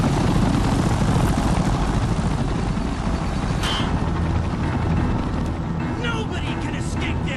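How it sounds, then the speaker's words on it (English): A helicopter arrives in the adventure game Secret Files 2: Puritas Cordis, its loud, steady rotor thump and engine roar filling the scene throughout while voices talk briefly over it. "Who's arriving on the helicopter?"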